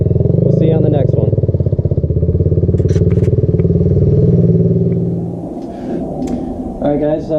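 A Kawasaki Z125 motorcycle engine drones loudly and steadily, then eases off and fades as the bike slows while braking on the ride home. A brief voice comes in near the end.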